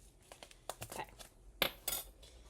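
A spoon clinks and scrapes against a dish while chia seed pudding is mixed, giving a handful of separate close taps and rattles, with two sharper strikes near the end over a quiet background.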